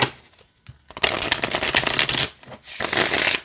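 A Rider Waite Smith tarot deck is shuffled close by, with a short pause and then a long dense riffle followed by a second quick burst of cards, no talking.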